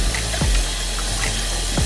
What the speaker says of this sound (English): Rinsing the chicken under cold water.